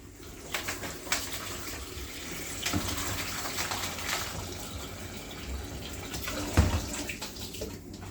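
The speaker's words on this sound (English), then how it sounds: "So what we're gonna do is get some water on it." Water from a kitchen tap running steadily onto freshly peeled potatoes in a pan, a close continuous splashing gush with a few louder spatters, no voices.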